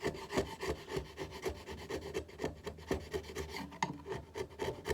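A sharp chisel pares leftover wood from the corner of a hidden mortise for a handmade wardrobe, giving close, steady rasping scrapes in a quick repeated rhythm with no talk.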